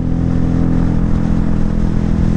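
A modified Honda Pop 110i motorcycle engine drones loudly and steadily at close range during a top-speed run into a headwind, a low rumbling hum with wind noise and no talking.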